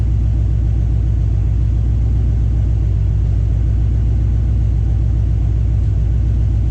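Loud, steady engine drone from a car held at high revs, a continuous rumble without pause or change.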